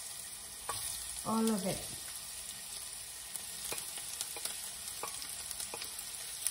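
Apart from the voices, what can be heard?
onion frying in a pan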